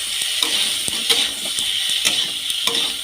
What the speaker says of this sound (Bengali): আলুটা খুব সুন্দর করে ভেজে নেব একটু কড়া করেই ভেজে নিয়েছি